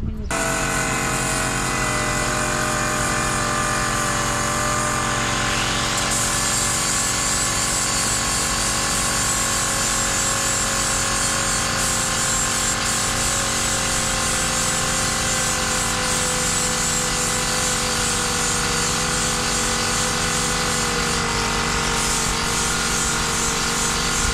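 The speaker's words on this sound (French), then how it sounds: "là le ponçage c'est éprouvant" A power sander works on a boat hull coated in antifouling, giving a steady, continuous high-pitched whir and buzz that runs without a break for the whole stretch.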